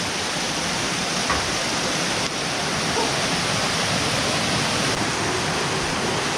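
Nabaroto Falls in San Andres, Quezon, roars as a constant broadband rush of falling water, loud and close, steady throughout with no voices.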